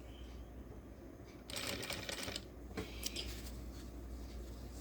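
A sewing machine stitches a seam of a shirt in a short, rapid burst of mechanical chatter, with quieter room sound before and after; no one talks.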